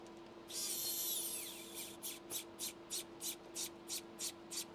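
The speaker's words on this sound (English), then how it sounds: "let's get these two screws back into the back" A power screwdriver driving screws into the back of an Original Xbox console case: a short high whirring spin, then a quick run of evenly spaced buzzing pulses as the screw seats, close and fairly quiet.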